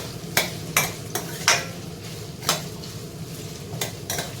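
Vegetables cooking in a pot for vegetable biryani being stirred, with sharp intermittent scrapes of a spoon against the pot over a soft steady sizzle, close up and without talk.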